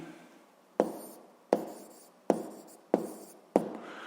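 Handwriting an answer during a Ukrainian 7th-grade physics lesson: five sharp, evenly spaced pen strokes or taps on paper, close and fairly crisp, with no talking.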